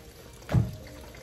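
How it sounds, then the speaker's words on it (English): Water drains from freshly rinsed rice in one brief, close splash that swells and fades within half a second against a quiet background. "Make sure all the water is drained out because we don't want any extra water."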